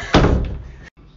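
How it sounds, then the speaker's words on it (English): A door closes in a house with a single solid thunk that fades away, followed by a brief silence and a low room tone. "Close the door."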